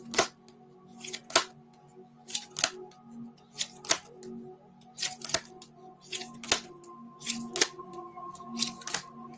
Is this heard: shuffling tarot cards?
yes